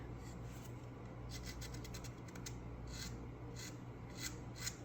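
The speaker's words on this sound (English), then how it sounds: "let's start off with my emery board here. Just to cut the edge on it there." An emery board is rasped steadily along the edge of a wooden rail on a model lobster smack boat, a continuous close scraping with rhythmic strokes throughout.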